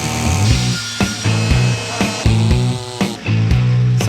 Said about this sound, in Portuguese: a motosserra